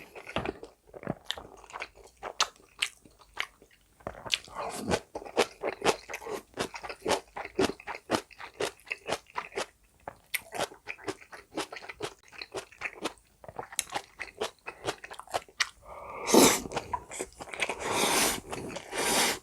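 Close crunching and chewing of kimchi with spicy black bean noodles, rapid crisp bites in a steady rhythm, and a louder burst of crunching near the end, with no talk.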